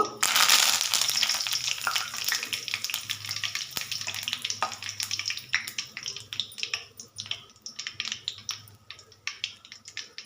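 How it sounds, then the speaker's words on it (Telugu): Whole cloves, cinnamon and curry leaves fry in hot oil in a pan, with a loud initial sizzle that settles into steady crackling and sputtering pops, with no voices. "ఇదిగోండి, లవంగ మొగ్గలు, కొంచెం దాల్చిన చెక్క వేస్తున్నాను."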